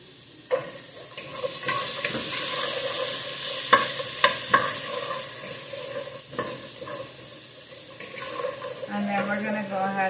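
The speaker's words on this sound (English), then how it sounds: "add our green onions and chili. And give it a nice little stir." Green onions and chili being stirred in a frying pan: steady sizzle with clinking utensil taps against the pan, close up, and brief background voice near the end.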